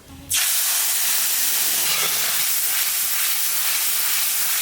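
Ground spice paste hits hot mustard oil with dried red chilies for a crab curry, bursting into a loud, sustained hiss of sizzling that holds steady for several seconds after a quiet start.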